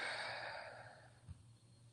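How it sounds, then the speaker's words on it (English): A long, soft exhale during a guided breathing exercise, a breathy hiss that fades steadily over two seconds, followed by a brief click near the end. "Let's take 5 deep breaths"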